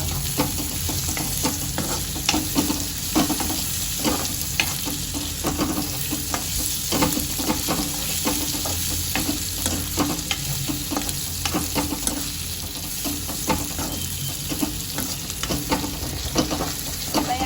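Potato pieces stirred in a pan for a dry potato sabzi, giving a steady sizzle with repeated scraping and clacking strokes of a spoon throughout, close and fairly loud, with no talking.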